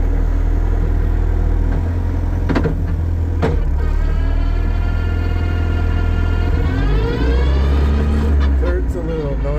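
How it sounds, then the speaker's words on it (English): A KA24DE five-speed gearbox with a Speedtek straight-cut gearset runs through its gears on a lift at about 60: a steady loud engine and drivetrain drone with whining tones that rise as the speed changes. "So I'm on the lift, doing 60, running in the gears."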